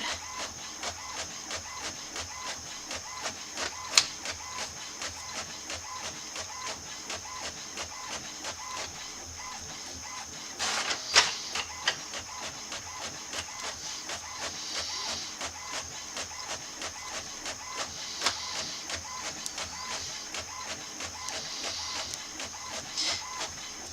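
A printer runs steadily, its feed mechanism whirring and clicking with periodic louder clunks as pages pass through, close and unaccompanied by talk.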